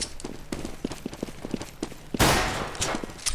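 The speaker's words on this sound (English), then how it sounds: "Take some nice, solid pistol shots." Pistol shots in CS:GO, a quick run of sharp cracks in an uneven rhythm, followed by a louder burst of noisy gunfire near the end.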